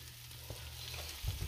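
Sliced mushrooms, eight ounces, cook down in a pan of olive oil with a soft, steady sizzle. A few low knocks and a louder clatter come near the end, like a stirring utensil hitting the pan.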